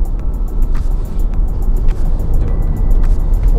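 A Subaru Forester SUV with a 200-horsepower horizontally opposed engine taking a curve at around 60 km/h: a loud, steady rumble of engine and road noise inside the cabin, with faint ticking above it.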